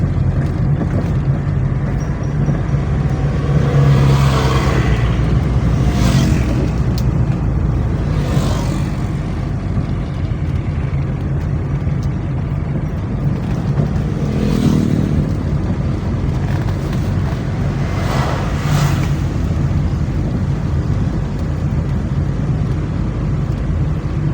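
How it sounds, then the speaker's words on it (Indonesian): A 1.6-litre carbureted 4A-F Toyota Corona drives with a loud, ragged exhaust, a continuous close engine drone that rises and falls across the run. "Waduh, knalpotnya parah."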